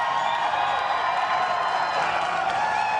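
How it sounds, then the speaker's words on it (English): An audience at an outdoor political event on a plaza keeps up continuous cheering and clapping, a dense, loud crowd roar with no pause. "yes, you can clap."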